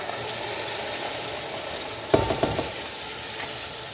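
Soaked lentils go into sizzling masala in a pan for dal tadka, a low steady sizzle broken by a short cluster of clattering knocks and scrapes as the lentils drop in and are stirred.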